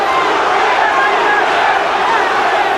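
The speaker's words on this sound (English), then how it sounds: "The crowd starts to chant again." A boxing crowd at the Roberto Duran versus Iran Barkley fight chants in a steady, dense roar of massed voices that fills the arena without a break.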